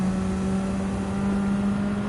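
A Radical race car engine in a racing video game at Road Atlanta holds a steady, droning high-rev whine for about two seconds, loud and close, with no talking.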